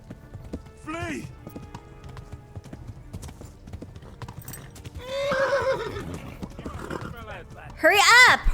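Horse hooves clip-clop steadily in the video game Kingdom Come: Deliverance, with sharp whinnies breaking in near the start, middle and end, all moderately loud against the game's ambient sound.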